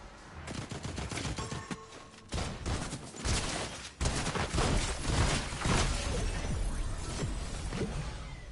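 A rapid-firing pump shotgun in Fortnite booms again and again in fast bursts, mixed with shattering and whooshing effects during heavy, continuous combat.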